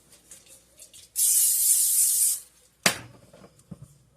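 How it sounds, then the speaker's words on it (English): A single continuous spray of cooking spray hisses into a bowl for about a second, followed by a sharp clunk and a few soft knocks of the bowl being handled. "You want to spray your bowl down."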